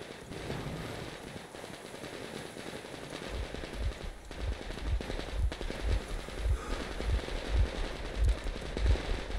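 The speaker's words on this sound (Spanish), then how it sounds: "¿Hay tiros?" Gunfire in the video game Metro Exodus: rapid, dense bursts of automatic shots crackle continuously, growing heavier and louder toward the end with no talk over them.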